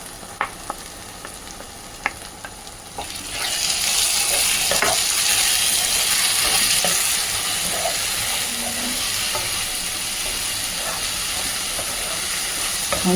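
Marinated mutton liver drops into hot oily curry gravy and breaks into a loud, steady sizzle and frying hiss, preceded by a few clinks of utensils, with no talking.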